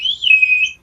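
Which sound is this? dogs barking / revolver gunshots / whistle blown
whistle blown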